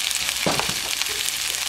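Burrito mix sizzles and fries in hot oil in a pan, a steady loud crackle with a brief stirring scrape partway through and no voices.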